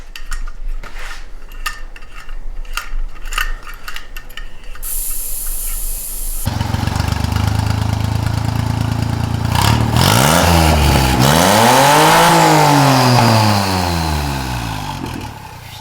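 A turbocharged Geo Metro rally car engine starts up and revs loudly, the pitch sweeping up and down through several throttle blips over a steady idle. Earlier, clattery workshop noise is heard.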